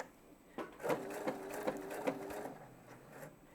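A Pfaff Expression 715 sewing machine runs a tie-off stitch, its motor humming steadily up close through a few short, rhythmic stitching bursts with no talk over it.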